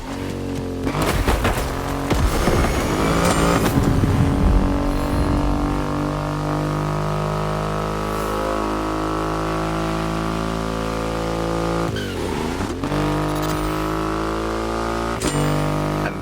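A Triumph Rocket 3 motorcycle with a 2.5-litre engine, in the racing game The Crew Motorfest, roars loudly and steadily throughout. There are sharp revving bursts near the start and again around the middle, layered over a continuous tonal engine drone and music-like tones.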